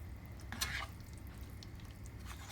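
A spoon stirs paneer masala in a pan, giving soft scraping and light clinks with a brief louder scrape early on, over a low simmering hiss and without any speech.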